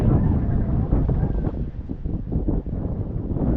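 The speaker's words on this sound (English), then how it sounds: "A little windy." Wind blows hard at the Golden Gate Bridge, buffeting the microphone in loud, gusty rumbles that swell and ease across the whole stretch, with no clear talk over it.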